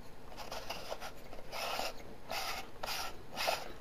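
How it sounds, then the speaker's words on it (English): An adapter tube is screwed onto a compact camera, giving close, faint scraping and ratcheting twists in several short bursts with small pauses between them. "you can fit the adapter tube that screws on like so"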